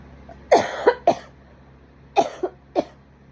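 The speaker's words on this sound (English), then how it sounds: "of course this coughing fit would happen, like why I'm filming" A coughing fit from a person, five sharp, close coughs in two clusters separated by a brief pause, over a quiet background hum.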